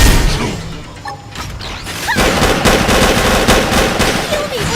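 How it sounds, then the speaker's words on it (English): Heavy gunfire in the sci-fi video game Xenoblade Chronicles X, a loud continuous barrage of rapid automatic shots and mechanical clatter, dense and unbroken from start to finish. "Holy shit, all the gunfire."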